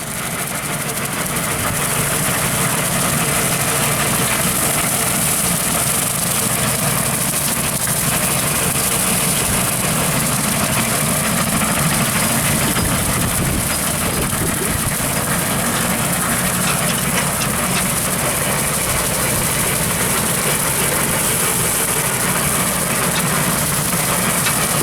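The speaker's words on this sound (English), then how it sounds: "He's on your property with your tractor, and he's cutting the grass." A tractor pulling a 15 ft Woods brush hog mows grass on a golf course, a continuous loud engine drone with a rough mower roar that holds steady throughout.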